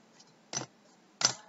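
Two crisp, faint mouse clicks land about 0.7 seconds apart against a quiet background, made while saving an entry in SAP controlling software.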